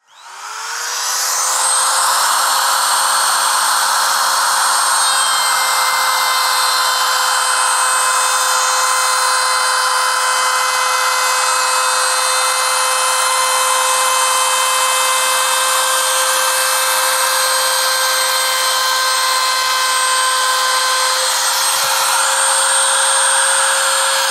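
A DongCheng DMP04-6 trimmer routes the edge of an HPL laminate sheet, giving a loud, steady high-pitched whine that runs unbroken for the whole stretch with no talk.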